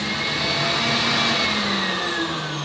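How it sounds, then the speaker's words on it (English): An electric stand mixer running at high speed through cookie dough, a loud, steady motor whine and whirr that holds constant with a slight shift in pitch. "Crank the speed to high and slowly lift up the"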